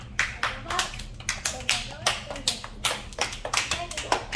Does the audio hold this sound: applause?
yes